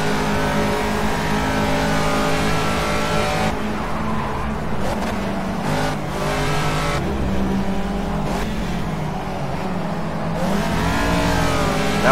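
A Caterham Super Seven racing at Snetterton in the Project CARS video game, its engine revving hard and loud throughout, rising and dropping through gear shifts, with other cars' engines audible nearby.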